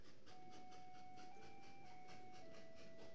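A train runs in the rail-building game Train Valley with a steady, quiet chugging hiss and a faint, held whistle-like tone throughout, with no voices.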